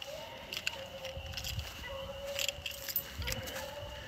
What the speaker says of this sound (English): My keys, that's what it was.